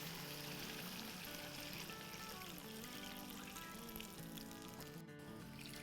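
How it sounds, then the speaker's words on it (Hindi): Water being poured into a pot of chicken haleem masala, a continuous faint trickling splash with no one talking. "तो अब हम इसमें पानी डाल देते हैं गलाने के हिस्से का"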